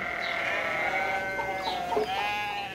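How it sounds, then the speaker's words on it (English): Goats on a small farm north of San Francisco bleat in several wavering, drawn-out calls that overlap and rise and fall, fairly close and steady throughout with no talking. "he has 5 goats"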